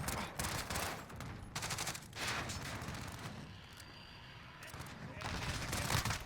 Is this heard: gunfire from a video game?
yes